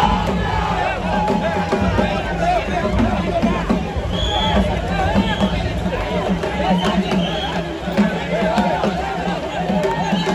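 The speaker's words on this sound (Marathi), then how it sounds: "अफाट गर्दी आहे इथे आणि उभं राहायला जागा नाही भाई" A huge, dense crowd packs the street at the Chinchpokli Chintamani Ganesh idol arrival procession in Mumbai, a continuous loud hubbub of many voices, shouts and movement close around.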